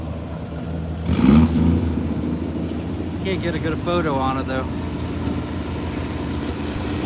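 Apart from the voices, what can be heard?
pulling tractor engine roaring at a tractor pull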